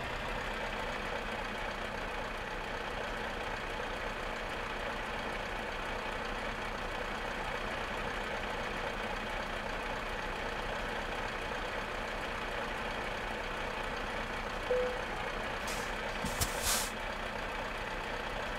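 A truck's engine idles and rumbles steadily as it rolls slowly onto a ferry in Euro Truck Simulator 2, a constant low drone with a couple of brief hissing clicks near the end.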